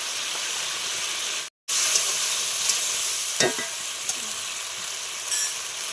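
Cabbage, peas and green chillies sizzling in hot oil in a pan, a steady loud frying hiss with brief stirring scrapes, heard close and alone without speech.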